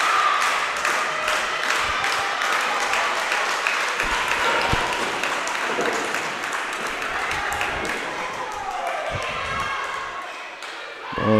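Wrestling crowd at an AMW independent show clapping and cheering along as a wrestler rallies them, dense steady applause filling the hall with scattered shouts and a commentator's voice faintly underneath.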